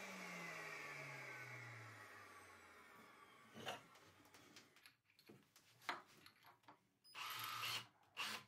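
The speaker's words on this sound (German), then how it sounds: "Ich möchte mir das ja aber einfach machen, mache das mit dem Akkuschrauber" A cordless drill driver whirs in short bursts as it bores 15 mm holes into wood, rising and stopping several times at close range, with louder grinding spurts near the end.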